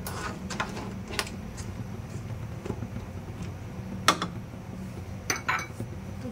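A pot lid set back onto a pot of crab curry on a home stove, giving a couple of sharp metallic clinks among faint kitchen clatter.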